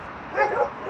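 A dog gives a short yip or bark outdoors beside an old railway trackbed, a single brief call of moderate loudness.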